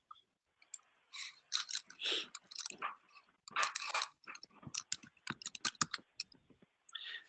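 Rapid clicking keystrokes on a computer keyboard, close and fairly quiet, in uneven bursts with short pauses, alone with no talking.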